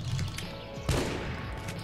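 Gunfire from the video game Pixel Gun 3D: a rapid fusillade of close, loud digital shots with one sharper burst partway through, continuing without speech.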